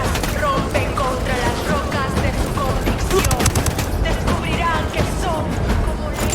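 Gunfire in the Ghost Recon Wildlands game: dense, continuous rattling bursts of shots over a steady low rumble, loud and close, with faint radio-like voices woven in.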